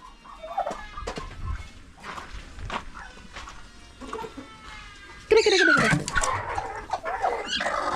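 Farm fowl, chickens with their chicks, cluck and peep near and far while they feed, with scratching and footsteps on the ground. A louder, busier burst of calls rises toward the end.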